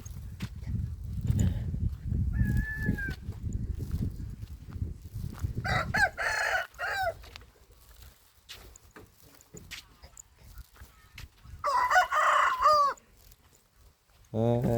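A rooster crows twice, with clear drawn-out calls spaced several seconds apart at moderate distance, after a stretch of low murmuring talk and rustling at the start.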